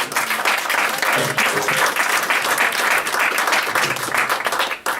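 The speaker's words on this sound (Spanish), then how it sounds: "Un fuerte aplauso a Dios." A church congregation breaks into loud applause, a dense steady roar of many clapping hands close by for about five seconds before cutting off abruptly.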